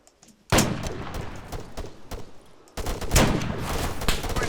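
Sustained close rifle and automatic fire in ArmA 3, a sudden loud fusillade of rapid shots that continues, briefly eases, and surges again, with almost no talking.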